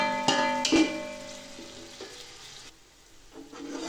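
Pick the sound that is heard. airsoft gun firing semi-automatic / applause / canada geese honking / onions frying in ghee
onions frying in ghee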